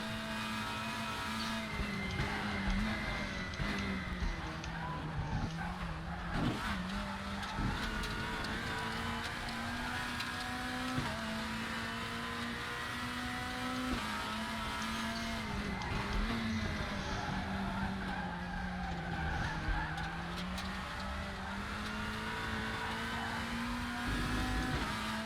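Volvo WTCC 2017 touring car racing around the Salzburgring in the Raceroom sim, its engine droning steadily and shifting pitch through the corners, with occasional tire skid as the rear slides loose, continuous and close throughout.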